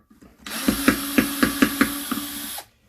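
A power driver whirs steadily for about two seconds while backing screws out of discarded electronics, with a regular clicking rhythm of about seven ticks riding on the motor hum, close and fairly loud.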